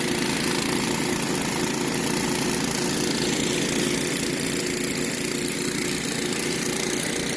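Several gold dredge engines run together nearby in high mountain country, a steady, loud mechanical drone with a pulsing low rumble that holds constant throughout, no talking.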